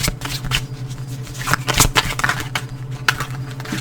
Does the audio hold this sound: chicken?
no